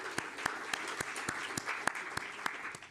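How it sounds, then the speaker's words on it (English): A crowd applauds with steady, scattered claps, moderately loud with sharp individual hand claps standing out. "if we could give them a round of applause"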